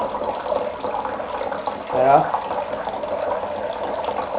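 Water from a drip system gadget pours steadily into a bucket, a constant splashing rush with a brief louder gurgle midway, while someone talks quietly over it.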